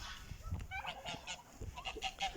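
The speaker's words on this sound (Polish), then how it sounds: "O, gęsi przyszły, bo już pewnie też chcą sobie wyjść." Domestic geese honking on a farm among chickens, a run of loud, nasal honks from several birds close by, overlapping and irregular, with no talk.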